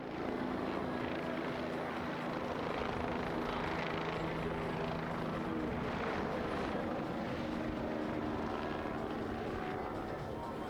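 Continuous whirring roar of a helicopter passing low overhead at an airshow, its engine and rotor noise swelling slightly midway, with no talking.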